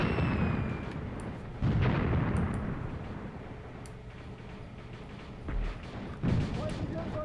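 Distant tank cannon and infantry gunfire from the Graviteam Tactics: Mius Front war game, heavy booms and scattered shots rumbling across the battlefield at intervals while someone talks over them.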